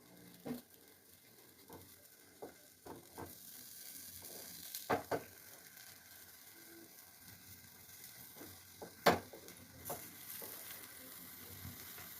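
Potatoes and tomatoes sizzle steadily in a pan on a home stove, a soft continuous frying hiss broken by occasional louder crackles and clinks of stirring, with no one speaking.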